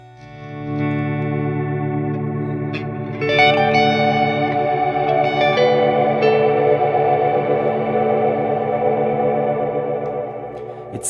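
A Strymon BigSky reverb pedal in Cloud mode with modulation at maximum turns sustained instrument notes into a dense, warbling wash, with a fast vibrato-like wobble and a swell of brighter tones after a few seconds, ringing on alone with no talk.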